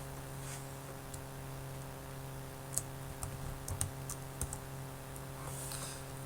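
Soft, scattered keyboard clicks at a computer while filling in SugarCRM application settings, a few quick keystroke bursts in the middle over a steady low hum, no voices.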